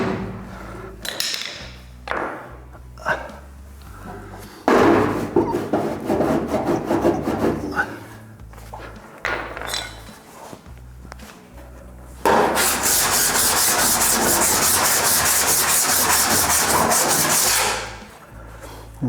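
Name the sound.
hammer and dolly panel beating Ford Falcon metal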